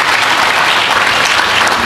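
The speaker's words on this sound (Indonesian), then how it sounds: "Tepuk tangan dong buat Tuhan." A church congregation bursts into loud, dense, continuous applause that fills the whole short stretch with no speech.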